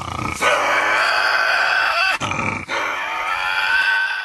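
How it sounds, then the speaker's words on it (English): A dingo, kangaroo or Tasmanian devil in the video game Straya lets out a loud, continuous rasping growl with a brief break, close and alone. "Dingoes howl, kangaroos grunt, and I learned Tasmanian devils make terrible noises."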